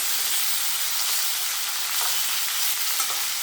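A fresh rohu fish fries in a pan of oil with a dense, even sizzle that spits and crackles close by, steady and loud for the whole stretch, with no talking.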